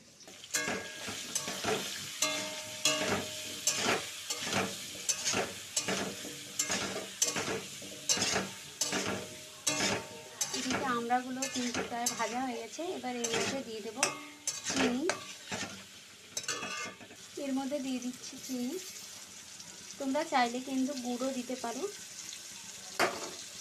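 Ingredients for a sour, spicy and sweet amra (hog plum) pickle fry and get stirred in a pan, with repeated sharp spoon scrapes and clinks over a steady sizzle and occasional voice-like tones.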